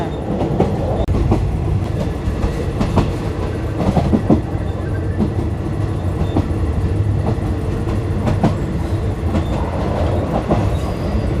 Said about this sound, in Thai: รถไฟก็กำลังออกนะคะทุกคน